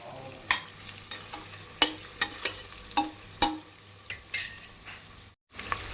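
Cashews fry in ghee with whole spices for Andhra natu kodi biryani, giving a steady close sizzle broken by a dozen sharp spoon scrapes and clinks against the pan, with a brief near-silent gap toward the end.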